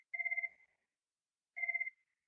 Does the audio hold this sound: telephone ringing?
yes